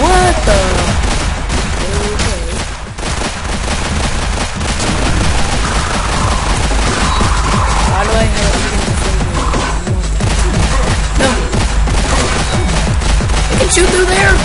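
Rapid gunfire in the Plazma Burst 2 video game: dense bursts of synthetic shots and crashes layered over game music, loud and nearly continuous, with a voice talking over it at times.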